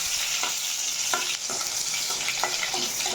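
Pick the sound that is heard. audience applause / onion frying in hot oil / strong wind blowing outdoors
onion frying in hot oil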